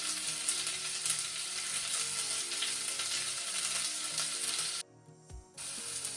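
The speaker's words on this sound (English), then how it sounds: "I added sliced red onions in here, and I've been stirring them for a little bit to ensure that the onions soften." Sliced red onions sizzle steadily in a hot pan, a continuous close crackle that drops out for a moment near the end before resuming.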